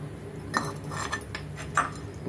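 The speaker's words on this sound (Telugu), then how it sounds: "ఇప్పుడు మూత పెట్టేస్తాను." A metal lid is set onto a pot of boiling chicken with coriander, curry leaves and mint, giving a few light clinks and a short rattle close by over a faint background hum.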